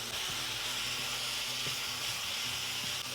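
Chicken with onion, salt and turmeric sizzles steadily in a pan as it is stirred, a continuous close hiss with faint low scraping underneath and no talk.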